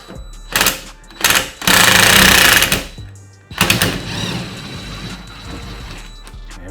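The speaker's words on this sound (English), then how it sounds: "And I can just use my power screwdriver." A power screwdriver whirs in several short bursts and one longer run near a garage motorcycle lift, loud and close, with mechanical clatter and no talking.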